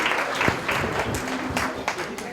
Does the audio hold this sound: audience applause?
yes